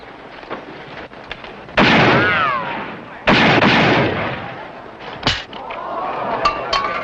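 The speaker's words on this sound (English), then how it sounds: "That's pretty good shooting" Gunshots in an American western film: two sharp, loud reports a second and a half apart, each followed by a long ringing decay, with a faint voice nearby.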